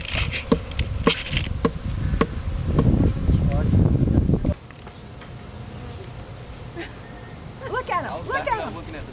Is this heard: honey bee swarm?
yes